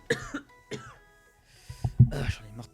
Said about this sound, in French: J'en ai marre de tousser.